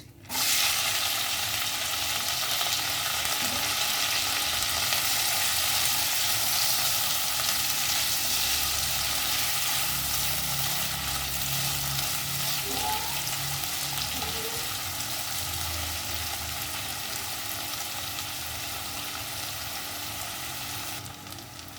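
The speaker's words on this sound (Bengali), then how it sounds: "পেঁয়াজটা আমার ভাজা ভাজা হয়ে গেছে" Finely chopped onions fry in a pan for a shrimp posto dish, giving a steady, close sizzling hiss that runs throughout with faint stirring scrapes and no talk.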